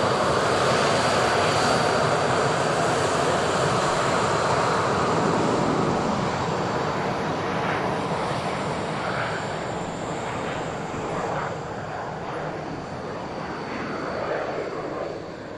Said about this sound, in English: There's the Learjet.